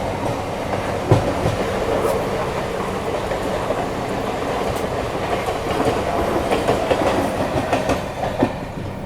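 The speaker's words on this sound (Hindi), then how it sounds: "यहाँ पर देखो लोकल जा रही है" A Mumbai local train rolls past close by during monsoon season near Vasai Road in Maharashtra, with a loud, continuous rumble and rhythmic clickety-clack of wheels throughout.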